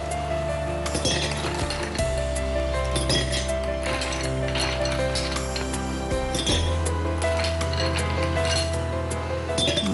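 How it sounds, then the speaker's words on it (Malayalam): Ice cubes clink against a glass as a strawberry mojito is assembled, with bright glassy taps and rattles recurring over a steady background hum. "ആദ്യം നമുക്കൊന്ന് 2 ഐസ് ക്യൂബ്സ് ഇടാം"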